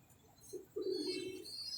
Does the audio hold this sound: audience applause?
no